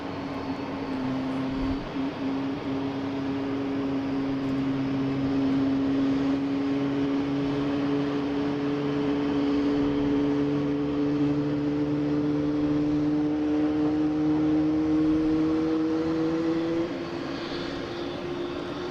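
A Japan Airlines airliner arriving from Tokyo Narita at Boston Logan gives a steady, loud jet engine roar whose whine slowly rises in pitch as it passes, then fades slightly at the end.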